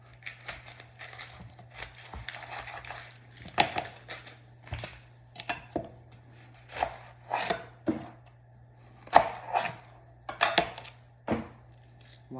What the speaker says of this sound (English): And then we're going to cut up our red onion.